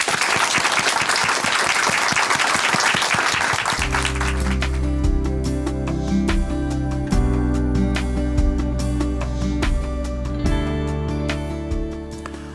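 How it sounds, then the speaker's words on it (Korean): Audience applause at a church broadcast welcoming a testimony speaker from Chuncheon Hanmaum Church, steady crowd clapping for a few seconds that gives way to a sustained organ-like musical chord with the clapping fading beneath it. "춘천 한마음교회 신용철 형제님 박수로 모시겠습니다."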